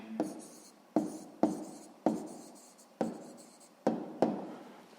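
Pen strokes on paper while a math answer is written out, a series of about eight distinct scratchy strokes with short pauses between them, close and quiet, no voices.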